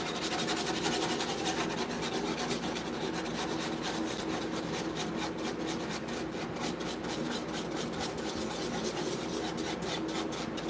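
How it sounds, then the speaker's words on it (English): A whisk scrapes steadily around a pot as a flour mixture boils, a continuous close rasping and rubbing that runs the whole time with no talk over it. "Whisk till the lumps are out."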